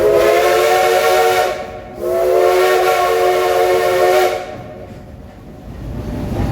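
A loud whistle from steam locomotive FSDL #504 sounds twice in long, harmonic blasts, the second held longer, over a constant hiss and rumble.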